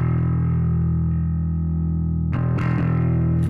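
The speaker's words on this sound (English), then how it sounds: "Okay, so that must be the other distortion." Electric guitar played through a Nembrini Audio Blackice Beta Gamma distortion pedal, a thick, fat sustained distorted chord ringing steadily, then re-struck with a couple of quick picked attacks near the end, loud and alone.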